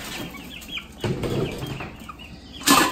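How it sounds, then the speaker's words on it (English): Eight-week-old chicks cluck softly and rustle nearby. Wing flapping comes in brief bursts, with a sharp flurry near the end. "let's see how the chicks are doing"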